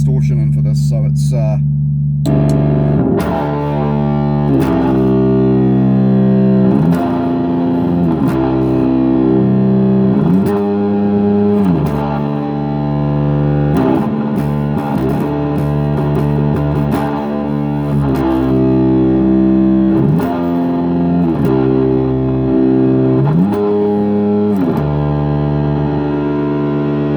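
Distorted electric guitar plays a riff on the third string, loud and close, with heavy, sustained chugging notes and repeated sliding phrases that continue steadily and alone.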